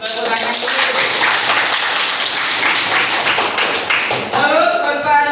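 Classroom applause, a group of students clapping hands steadily throughout with dense, overlapping claps and some voices mixed in.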